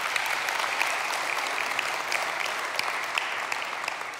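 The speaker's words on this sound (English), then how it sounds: "Yeah, you can clap for him." A crowd at a community talk breaks into sustained applause, an even wash of many hands clapping at moderate distance, continuous and unbroken throughout.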